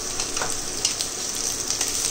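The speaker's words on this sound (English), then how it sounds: "To this we are going to add our onions that we have sliced, and we are going to roast this till they are medium brown in color." Sliced onions roasting in a pan for chicken sukka give off a steady, close sizzle with faint crackles, a continuous frying hiss throughout with no voices.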